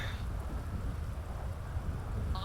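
Steady rain falls in a GTA roleplay city scene, a dense even hiss with low rumbling underneath throughout, and no speech.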